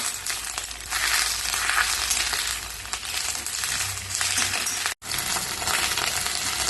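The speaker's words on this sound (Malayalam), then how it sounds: "ഇത് ഇളക്കി വഴറ്റാം" Steady loud sizzling of drumstick leaves frying in a hot pan, with a brief scrape or stir partway through.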